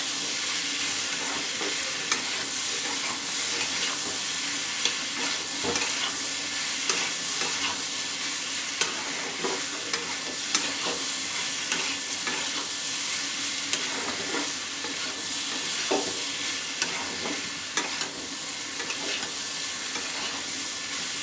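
Vegetables for a vegetarian papaya curry sautéing in a pan, a steady even sizzle running throughout with frequent light ticks and scrapes of stirring.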